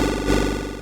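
Buzzy 8-bit synth lead with a looping envelope driving its wavetable position, the attack shortened so the stepped arpeggio ripples faster; a brief, fairly loud burst of rapid chiptune notes with no talk.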